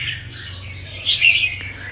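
A caged songbird gives a short burst of bright chirps partway through, fairly close but not loud, over a low steady background hum with no talking.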